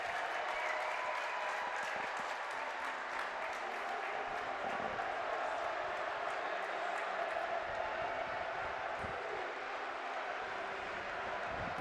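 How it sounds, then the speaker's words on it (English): Watford fans at a women's football play-off final applauding and cheering in unison, a sustained wash of clapping from a large crowd that holds steady throughout. "who cheer in unison what they have seen this afternoon."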